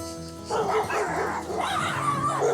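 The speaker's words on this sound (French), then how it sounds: "J'ai entendu les chiens, donc c'est bon." Dogs barking in quick repeated bursts at moderate distance, with some yelping and whining, during a speed-dating episode of a French farm dating show.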